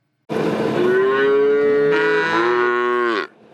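A single cow gives one long, loud, close moo that rises and then shifts pitch partway through before cutting off, heard alone with no talk or other sounds.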